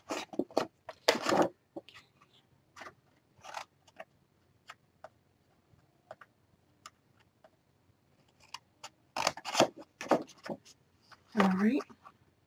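Scissors snip paper flap pieces off a handmade 8x7 mini album, a series of short, crisp cuts close by with quiet pauses between them, joined by several quicker clusters of snips.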